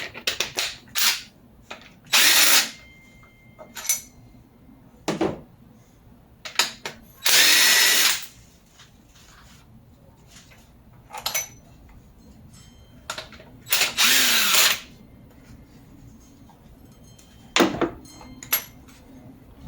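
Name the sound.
power tool removing cylinder head bolts on Honda Civic engine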